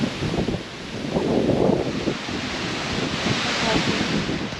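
Strong gusty wind roars through trees at a marina in the Netherlands, a loud, continuous rushing that swells and eases, with a faint voice briefly under it.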